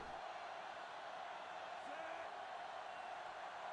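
A stadium crowd at a Hamilton football game cheers and pleads for the defense before a third-down play, a steady, dense roar heard from a distance that holds unbroken throughout.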